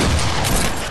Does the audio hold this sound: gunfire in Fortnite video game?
yes